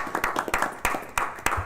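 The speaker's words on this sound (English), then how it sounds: "They deserve a round of applause." A council meeting audience claps for visiting state legislators: a short run of sparse, distinct hand claps from a small group at moderate distance.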